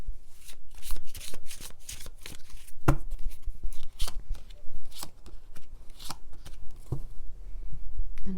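Tarot and oracle cards shuffled by hand, a steady run of crisp riffling and slapping bursts with a few sharper taps, close and fairly loud with no voices.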